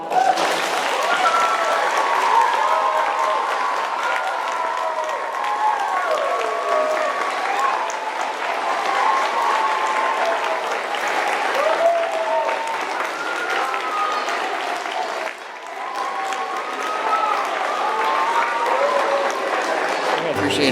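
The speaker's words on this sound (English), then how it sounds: "big round of applause." Sustained applause from a gathered crowd of kids and staff at a retirement celebration, dense steady clapping lasting about twenty seconds with some chatter mixed in, then cutting off abruptly.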